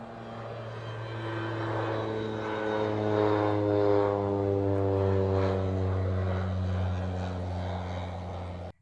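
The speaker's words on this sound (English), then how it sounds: "It's a plane." A propeller airplane drones steadily overhead, its engine hum swelling and then fading slightly as it passes.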